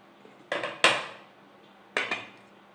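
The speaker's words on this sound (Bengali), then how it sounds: "তার আগে আমি কড়াইটাকে ঢেকে দিচ্ছি।" A metal lid set onto a kadai on a gas stove while cooking rice flour for moong dal jhal pithe gives a few sharp clanks, with two close knocks, a pause, then another clang.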